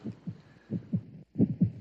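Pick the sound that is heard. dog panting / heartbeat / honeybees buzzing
heartbeat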